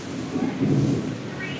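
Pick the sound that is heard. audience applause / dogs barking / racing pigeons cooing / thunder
thunder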